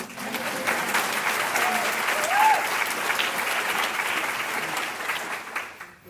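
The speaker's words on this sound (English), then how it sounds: "We all just give Robin a hand." Audience at an author evening applauding steadily, a dense wash of clapping that holds for several seconds, then tapers off at the end, with a brief voice or whoop rising above it midway.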